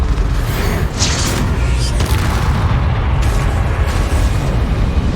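A Bombarda explosion spell in Hogwarts Legacy detonates with a loud, deep boom and rumbling blast that fills the whole stretch, dense and continuous with a brief crackle on top.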